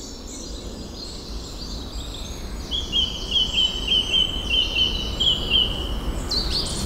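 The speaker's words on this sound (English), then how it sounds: "Just listen to that bird song." Birds sing in a misty morning woodland, a repeated series of bright chirping phrases standing out clearly over steady outdoor ambience, with another call near the end.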